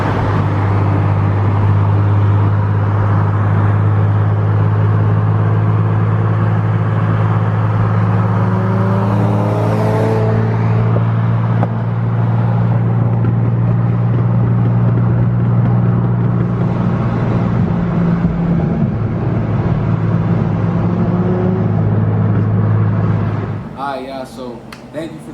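A bolt-on tuned Nissan Z car idles and drives off, a loud steady engine drone with a deep low hum and shifting pitch as it pulls away, ending abruptly near the close.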